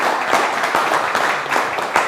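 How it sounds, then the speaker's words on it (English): An audience applauds panelists at the end of a panel discussion, a brief burst of clapping from a small crowd, fairly loud and close. "let's give our panelists a round of applause"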